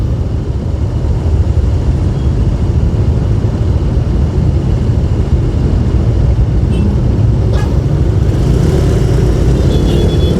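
Loud, continuous road rumble from traffic on a road between Jimbaran and Ubung, with a bus driving ahead; a steady, close roar with faint higher whines near the end.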